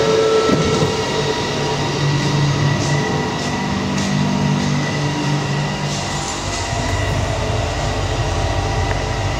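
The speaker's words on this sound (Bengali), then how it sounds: "ট্রেনের সামনে দাঁড়িয়েছি," A train standing at a station in Subang Jaya, heard as a steady loud rumble of rail machinery with low hums and a faint tonal whine, continuous and close for about nine seconds with no talking.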